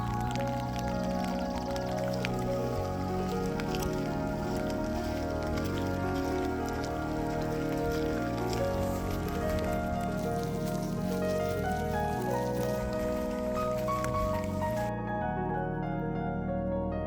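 Rain falls along a forest trail in winter-to-spring weather, a continuous patter of drops heard faintly beneath prominent music that plays throughout.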